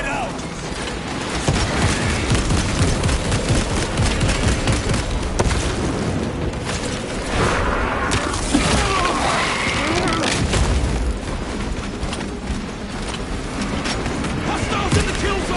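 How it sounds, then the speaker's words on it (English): Grenade blasts and battlefield chaos in Warhammer 40K: Space Marine, with loud booming bursts and mechanical clatter over continuous dense combat noise, and voices calling out between the explosions. "Grenade out!"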